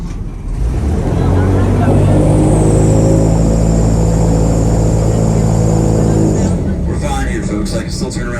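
Airboat engine on a ride through the Everglades roars loud and close in a sustained, steady drone, its pitch holding for several seconds before the noise drops away abruptly near the end.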